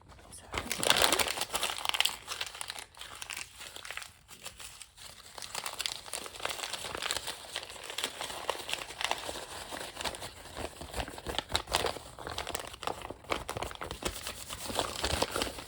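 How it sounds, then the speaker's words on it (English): Close, continuous crinkling and tearing of glossy Elle magazine pages, the paper crackling and crumpling in dense bursts with brief pauses throughout. "what I'm going to do is tear and show you this"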